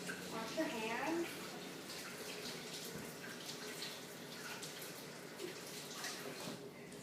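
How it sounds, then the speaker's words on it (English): Tap water runs into a sink during hand washing after handling sticky dough, a soft steady hiss that stays faint and continuous throughout with a brief louder splash near the start. "now you're going to go wash your hands"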